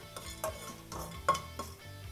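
Spices dry roasting in a pan for chicken salna, with soft periodic stirring scrapes and light clinks against the metal over a quiet low sizzle, close and fairly faint.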